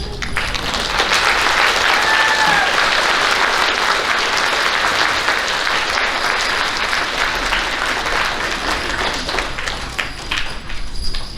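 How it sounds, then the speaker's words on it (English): Loud, continuous applause from an audience at an elementary school awards ceremony, dense clapping holding steady for several seconds and tapering slightly at the end. "Let's give our AD honorable applause back."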